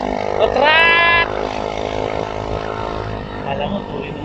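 A slow motorcycle's engine drones steadily while riding, with a brief rising whine in the first second, and someone talks over it throughout.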